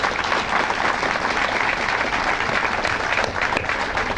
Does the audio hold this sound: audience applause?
yes